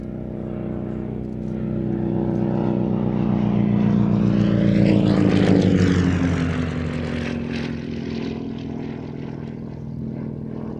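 A Percival Provost propeller trainer flies past at an air show, its engine drone swelling steadily to a loud close pass around the middle and then fading away, heard alone without talk.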